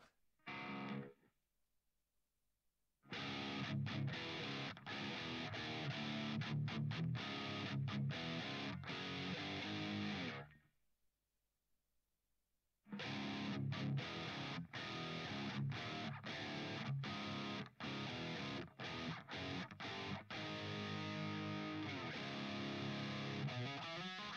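An electric guitar plays through the BIAS Amp 2 amp modeler with its dynamic tone setting, producing distorted, driven strummed chords and picked notes in two long phrases separated by a brief silence, loud and close with no talking.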